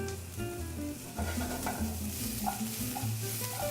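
Garbanzo beans and fresh basil cooking in a pan on the stove, a continuous close sizzle with some stirring and scraping, steady and moderately loud without speech.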